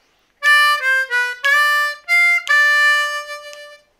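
A simple blues lick on a C harmonica with no bent notes: a clear, bright run of separate reedy notes played close and loud, with short gaps between phrases and a final held note that tails off.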